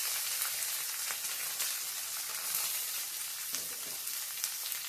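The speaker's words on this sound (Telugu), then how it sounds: "కాసేపు ఎర్రగా వేయించాలి ఉల్లిపాయలు చూడండి ఇంకొంచెం వేగాలి" Chopped onions fry in hot tempering oil for a carrot coconut curry, giving a dense, continuous close-up sizzle with faint crackles and no voices.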